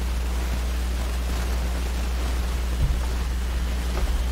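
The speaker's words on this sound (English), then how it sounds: "We think it's the laptop fan that you hear running." Steady, even whoosh of a laptop cooling fan running continuously at close range, with a low hum underneath and a couple of faint bumps.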